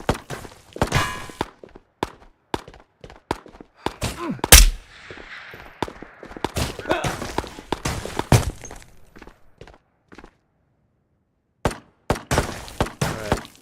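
In the VR game Ghosts of Tabor, a grenade is thrown with a clunk, then a sharp blast and bursts of gunfire follow amid footsteps and thuds, loud and close, with a short silent gap before more shots.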